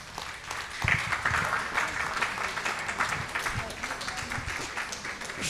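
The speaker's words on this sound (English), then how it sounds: "Vous pouvez applaudir d'ailleurs s'il vous plaît." An audience at a French-language presentation applauds after a moving testimony, with steady clapping of moderate loudness throughout and brief talk mixed in.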